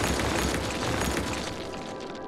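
A city road being demolished in Cities Skylines, heard as a steady, dense crumbling rumble with bursts and pops that holds close and loud throughout before easing slightly at the end.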